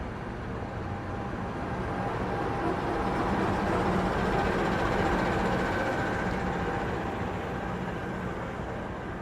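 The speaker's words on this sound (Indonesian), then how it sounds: "Yang baru saja masuk di jalur nomor 4 ini adalah kereta api Manahan" Manahan passenger train arriving at a station platform, a broad steady rumble of rolling cars with a faint high tonal whine running through, continuous and fairly distant.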